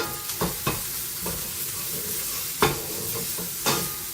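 Bacon browning in a pan, a soft continuous sizzle up close punctuated by several distinct knocks and scrapes of a utensil stirring.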